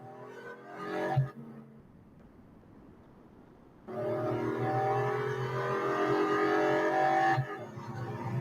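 A car engine in the Real Racing 3 mobile game drones with a steady, buzzing tone, dropping briefly before surging back into a loud, sustained high-revving whine with gear-shift dips.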